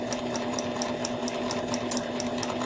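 A sewing machine runs steadily as it stitches fabric with small stitches, producing an even, continuous mechanical hum with rapid rhythmic needle ticks, close and moderately loud, with no talking.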